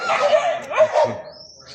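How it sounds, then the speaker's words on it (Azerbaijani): Stray dogs in a residential area of Ganja, Azerbaijan bark and yip in a loud, close, irregular cluster of several sharp barks, then fall quiet. "Görün nə qədər it var."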